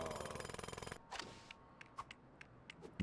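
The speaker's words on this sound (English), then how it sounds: "we can destroy some of the stuff inside with the drill" A drill in The Lego Movie video game rattles in a rapid pulsing burst for about a second, then stops, leaving scattered clicks and knocks from the game.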